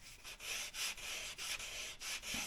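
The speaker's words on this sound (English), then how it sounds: "So I have to sand that" A diamond willow walking stick being hand-sanded with 80-grit belt-sander sandpaper gives a steady, close, raspy rubbing in repeated strokes, each swell broken by short pauses as the paper changes direction.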